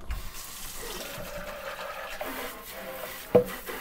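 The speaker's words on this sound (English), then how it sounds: "Then we'll go ahead and dump the water out here." Dirty water from a Bissell CrossWave Cordless Max tank pours into a sink, a steady close splashing stream with a brief knock near the end.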